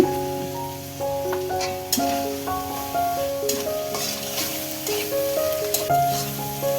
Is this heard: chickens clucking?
no